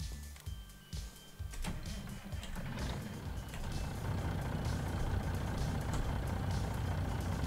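A truck in Farming Simulator 19 reverses with a repeating warning beep over a steady engine drone, with a hiss like an air brake near the start.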